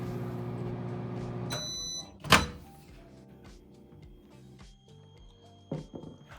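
A microwave oven heats black cumin seeds in oil with a steady low hum, then a bright beep, a solid thunk like a door, and quieter clicks and rattles afterward. No one speaks.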